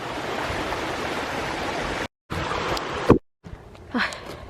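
Rushing water from a small village waterfall fills the air with a steady broadband roar, broken by a couple of brief gaps and a short louder knock near the end.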